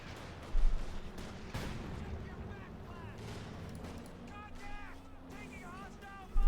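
Gunfire in the real-time strategy game Company of Heroes 2 as Wehrmacht fuel grenadiers gun down troops: a steady rattle of small-arms bursts with a few sharper booms, a commentator talking over the battle.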